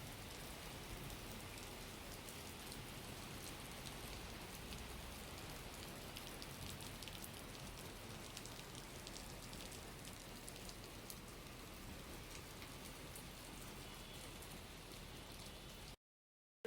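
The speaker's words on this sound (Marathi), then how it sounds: "किती जोरात पाऊस आला इकडे." Heavy rain pours down steadily near Igatpuri railway station in the monsoon, a dense, even hiss that runs unbroken for about sixteen seconds with no voices, then cuts off abruptly.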